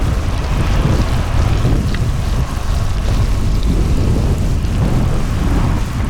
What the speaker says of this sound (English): Hailing. He's hailing.